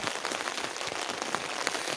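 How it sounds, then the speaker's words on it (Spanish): Steady, dense patter of rain drumming on a tent overhead while camping in northern Finland, close and continuous with no voices. "Y ahora está lloviendo, se escucha mucho."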